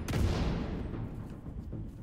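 A special-weapon explosion in Tom Clancy's The Division 2 hits with a heavy boom at the start, then rolls into a low rumbling tail with scattered distant gunfire.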